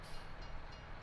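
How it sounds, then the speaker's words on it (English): A passing train in the video game Farming Simulator 19 roars as a broad, steady rumble, faint and continuous for about a second. "gotta love the train."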